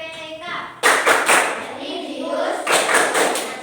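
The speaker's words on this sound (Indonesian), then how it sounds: "kita tepuk PPK dulu ya Mbak ya?" A school class does the rhythmic Tepuk PPK clapping chant, with loud patterned hand claps in quick groups mixed with children's voices in a classroom.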